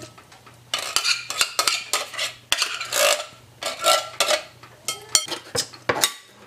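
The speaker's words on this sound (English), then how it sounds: "We're going to put 2 cans of our mixed vegetables." Drained canned mixed vegetables go into a bowl and are stirred, giving loud, repeated scraping and clinking of a utensil against the dish in irregular bursts, close up with no talking.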